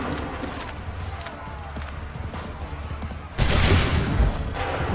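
Musket volley in Assassin's Creed III erupts suddenly after a stretch of busy battlefield noise, a loud dense burst of overlapping shots with rumbling echoes continuing to the end.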